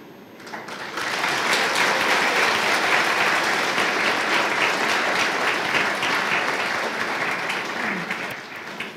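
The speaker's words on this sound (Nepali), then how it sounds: "तालीको लागि धन्यवाद छ।" An audience at a church pastor ordination ceremony breaks into sustained, dense applause that swells after a second and holds steady, loud and full, with no speech.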